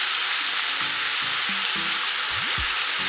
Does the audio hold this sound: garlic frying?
yes